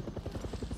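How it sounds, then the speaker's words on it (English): Helicopter rotor from the video game Far Cry 6, a steady low rhythmic chopping thump at moderate distance, lasting under a second. "I hear a chopper."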